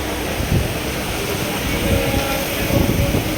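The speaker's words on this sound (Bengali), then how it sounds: "ট্রেন থেমে গেছে, এবার নামার পালা।" A train rumbles and rattles steadily as it comes to a stop at a station, a loud, dense wash of wheel and carriage noise with a few heavier thumps.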